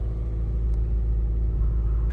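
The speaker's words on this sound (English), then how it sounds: "Engine's running, ready for the MOT." A borrowed Panda car idles with its engine running before an MOT test. The rumble is close, steady and low, with no talk over it.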